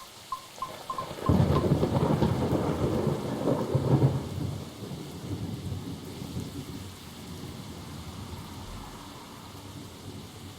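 A heavy rolling thunderclap in the Coffee Talk 2 game swells loudly, then rumbles off over steady rain patter that carries on alone to the end.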